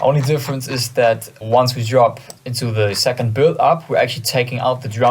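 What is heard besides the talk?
None of the usual background noises is heard.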